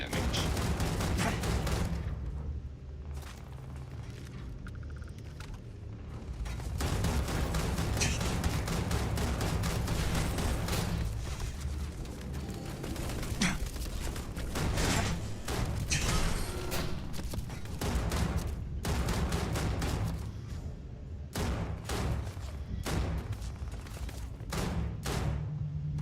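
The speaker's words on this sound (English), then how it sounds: "I am opening fire. Massive damage." Ship weapons open fire in the space game Starfield, a dense, sustained barrage of loud bursts and booms rolling on continuously with a few brief lulls, no talking.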